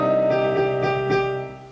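A piano plays a repeating passage, with a few evenly spaced notes over a sustained ringing chord. The notes are close and clear, then fade out near the end.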